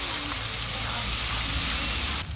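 Ginger, garlic and green chili paste sizzles in hot oil over fried onions in a pan, a steady close hiss running without a break, with a faint voice barely present.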